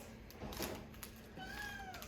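A cat meows once, a clear drawn-out call close by, after some faint handling rustles and clicks in a quiet room.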